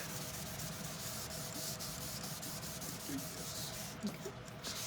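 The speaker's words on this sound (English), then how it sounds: "I'm just putting a light layer of wax on this cardstock" A microfiber cloth rubbing a light layer of wax onto cardstock, a soft, faint, continuous dry rubbing close by.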